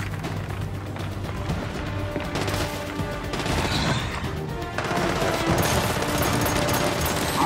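Close-range gunfire in the Gears of War 5 video game, a dense, loud fusillade of rapid shots and crashing impacts running nearly continuously, with no talking.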